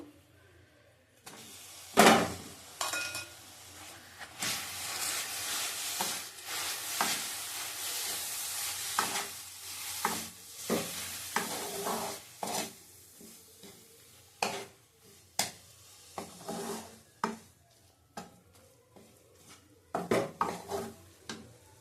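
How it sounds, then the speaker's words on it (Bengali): Apple pieces stirred in melted sugar in a pan while making apple naru, the spoon scraping and clattering against the metal in irregular strokes over a soft, steady sizzle. "চিনি গুলে গেছে এবার আপেলটা দিয়ে দেবো"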